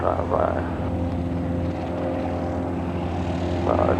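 A small airplane's propeller engine drones loud and steady at full power during a takeoff roll, heard from inside the cockpit with brief talk over it.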